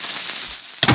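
A brief, loud explosion from the video game Minecraft bursts out near the end, following a steady hiss of game background noise.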